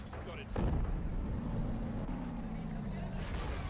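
Mortar fire in the video game Men of War: Assault Squad 2, with a sharp blast followed by a low rumbling roll and a second, softer impact, plus a short burst near the end.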